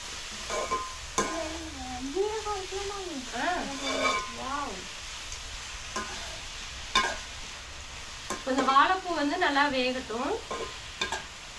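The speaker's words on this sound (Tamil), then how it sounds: "உப்பு சேர்த்து நல்லா வந்து எண்ணெயிலே வதக்கிக்கலாம்" Vegetables sautéed with salt in oil in a pan for a banana-flower and drumstick-leaf stir-fry: a steady low sizzle with occasional stirring scrapes, mostly under a voice talking on and off.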